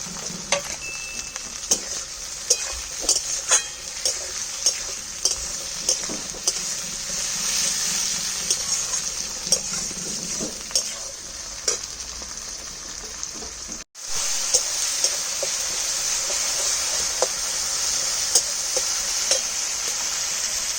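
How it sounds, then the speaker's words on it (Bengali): Onions frying with chopped tomato and green chilies for a pabda fish curry, a continuous dense sizzle with regular spoon-stirring clicks throughout and a momentary break midway. "পেঁয়াজটা ভাজা ভাজা হয়ে গেছে এবার টমেটো কুচিগুলো দিয়ে দিতে আর কটা কাঁচা লঙ্কা চিড়ে"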